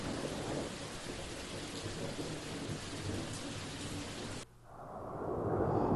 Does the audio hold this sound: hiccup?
no